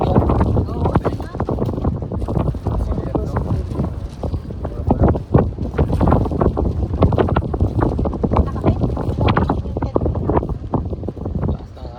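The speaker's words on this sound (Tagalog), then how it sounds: "Lakas ng hangin." Strong wind gusts outdoors and buffets the microphone in a continuous, roaring rush, while people talk over it.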